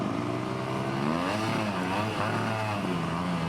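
Dirt bike engine on a badlands rally obstacle, a close, continuous buzzing drone that rises and falls in pitch as the rider works the clutch and throttle.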